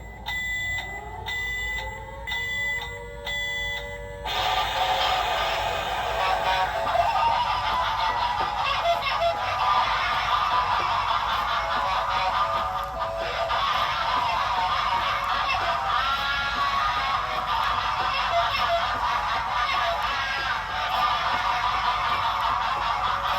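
A Tekky Toys Thrashing Clown animatronic toy running through its sequence at full volume: a few short electronic honking tones at the start, then a loud, steady stretch of harsh buzzing noise and music that lasts to the end.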